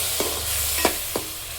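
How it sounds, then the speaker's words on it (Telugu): Tomato puree fries with spices in a pan for fish biryani, a steady close sizzle broken by three short scraping stirs of a spoon. "ఆ ప్యూరీ కూడా వేసేసి నేను మంచిగా ఫ్రై చేయాలి."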